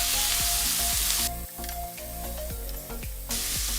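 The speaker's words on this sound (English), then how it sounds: "Look at that sizzling sound." Tomatoes sizzle and crackle loudly in a hot frying pan, the hiss dipping briefly as they're stirred, then rising again.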